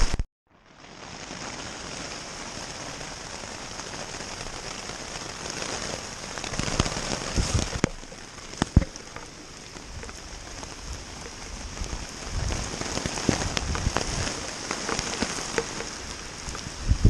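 Steady rain pattering on a tent during a cold, wet solo kayak camping trip in Florida, a dense continuous hiss with scattered heavier drops and louder bursts near the walls, no voices.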